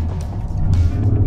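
A 2021 Porsche Cayenne S Coupe engine rumbling low and steady from inside the cabin for a moment, a deep continuous drone with slight swells.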